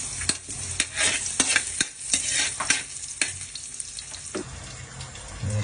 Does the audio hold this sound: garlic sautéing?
yes